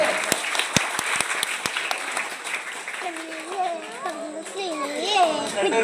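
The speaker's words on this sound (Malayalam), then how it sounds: "ഇവർക്ക് രണ്ടും നല്ല ഗംഭീര ക്ലാപ്പ് കൊടുത്തേ" A group of schoolchildren claps, with a few sharp early claps that thicken into a loud, sustained round of applause, joined by excited children's voices and chatter.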